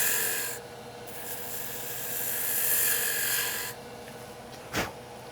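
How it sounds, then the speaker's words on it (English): Spindle roughing gouge cutting a broad cove in wood spinning on a lathe, a steady close shaving hiss that swells and fades, ending with a brief knock. "Great spot for the spindle roughing gouge."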